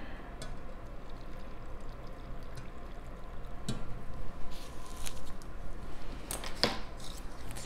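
Cooled brine pouring into a jar of Chioggia beets for a refrigerator pickle, a close, steady gurgling trickle with a few soft splashes and clinks toward the end.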